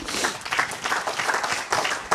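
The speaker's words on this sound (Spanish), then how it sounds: "Den un aplauso al Señor." A church congregation claps together in a brief burst of applause, dense and fairly close, with several sharper individual claps standing out over the crowd.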